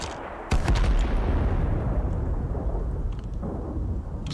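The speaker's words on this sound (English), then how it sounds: "we're being shot at from this angle" Gunfire in the video game Total Conflict: Resistance: a sudden loud crack of shots opens a dense, continuous roar of weapon fire and rumble that stays heavy to the end, with no talking.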